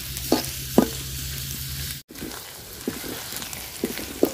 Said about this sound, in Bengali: পেঁয়াজটা আমি লাল লাল করে ভাজা নিছি।